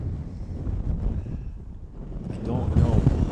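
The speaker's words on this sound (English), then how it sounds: "Wind blowing 30." Strong wind blasts across the microphone outdoors on open water while fishing, a loud, rough, continuous rumble that swells toward the end, with a voice speaking under it.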